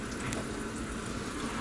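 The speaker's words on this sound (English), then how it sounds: "I got the old chicken here in the frying pan, just a little bit of oil." Grouse meat, seasoned with salt, pepper and garlic powder, fries gently over low heat in a frying pan with a little oil, giving a steady, close, even sizzle without speech.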